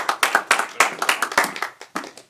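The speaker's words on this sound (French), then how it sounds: "On l'applaudit." Sparse, uneven clapping from a small studio audience on a French game show, a handful of hands beating in loose bursts for about two seconds, fairly close and without talk.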